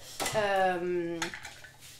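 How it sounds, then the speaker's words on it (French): A saucepan being handled while two litres of water go in, giving a clattering metallic scrape, then a sustained ringing resonance for about a second, then a few smaller knocks, close and moderately loud. "Vous mettez 2 litres d'eau dans une casserole"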